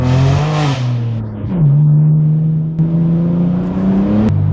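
A BMW M3 idles and burbles with its exhaust valves closed, a steady low rumble with a brief blip of revs near the start and another just before the end, loud and close.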